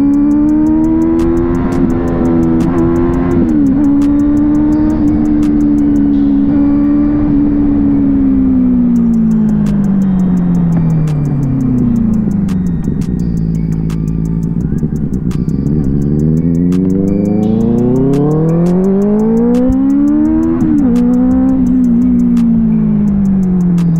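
Kawasaki Z900 inline-four superbike heard at close range: a loud, continuous engine note climbing through the revs, dipping at gear changes and rising again in repeated pulls.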